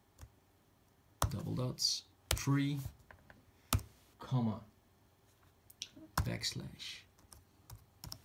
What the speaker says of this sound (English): What you're gonna do now is type the following